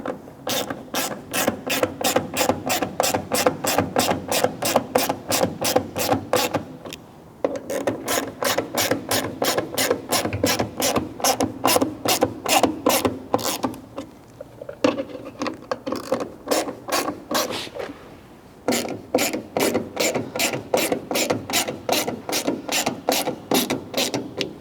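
A hand ratchet clicks rapidly and steadily in close-up while tightening screws on an LED tail light for a 1973-87 Chevy/GMC Squarebody truck, with bursts of clicking broken by brief pauses, no talk.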